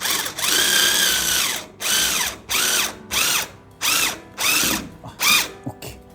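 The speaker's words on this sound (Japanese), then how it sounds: "このような感じでネジを締め上げていくと" A power drill drives screws to pull wooden boards together for the outer frame of a kei-truck camper shell, whirring in about eight loud, close bursts, each rising in pitch, with brief pauses between and no voices.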